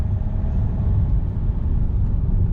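A car's interior hums with a low, steady engine and road rumble as it turns into a one-way street, continuous and fairly loud, with no voices.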